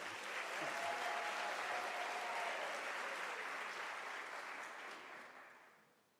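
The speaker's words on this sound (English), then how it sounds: "can we give a round of applause to all our graduates and welcome all of you" Audience at a University of South Africa autumn graduation ceremony breaks into dense, sustained applause that holds steady and then gradually fades away toward the end.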